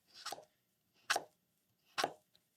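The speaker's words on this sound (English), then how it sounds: "and then I cut slices." A knife slices through a vegetable for a Greek salad, three crisp separate cuts about a second apart, each ending in a soft tap on the board, close and clear with no talk.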